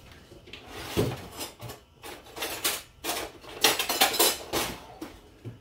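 Dishes and cutlery clatter and rattle in a kitchen as a small spoon is fetched, with a string of irregular clinks and knocks, louder bursts toward the middle and end, and no talking.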